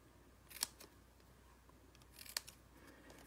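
Two crisp scissor snips trim the ends of a narrow paper strip for a stamped card, sounding near and sharp with a quiet pause between cuts.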